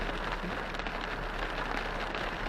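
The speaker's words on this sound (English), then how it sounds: "Yeah, it's raining." Steady rain falls outdoors near a chained-down Bobcat machine, a dense, even hiss of drops on surfaces with no pauses and no voices.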